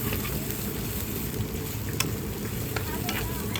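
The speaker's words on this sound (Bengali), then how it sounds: "দিয়ে একটু ভেজে নেব।" Cumin sizzles in hot oil with onion and ginger-garlic paste on a village rooftop stove, giving a steady, close frying crackle with a few sharp pops and no speech.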